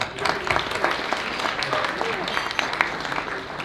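Applause fills a coffee table book launch evening honouring Indo-American personalities: a dense, steady crowd clapping that continues evenly throughout, fairly close and moderately loud.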